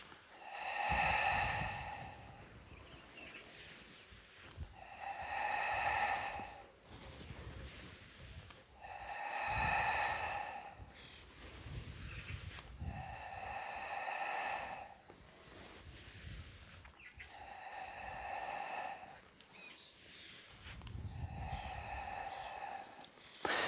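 Slow, deep breathing during a morning Pilates routine, loud and close, with long audible exhalations and softer inhalations alternating in a steady rhythm about every four to five seconds, alone without talk.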